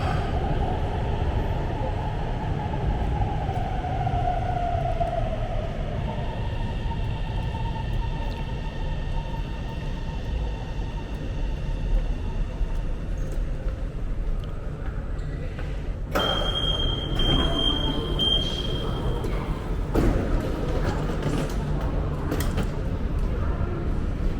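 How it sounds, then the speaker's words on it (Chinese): A Guangzhou Metro train rumbles steadily into a station, with a rising whine and a high tone partway through, then doors and platform noise. "地铁到站了。"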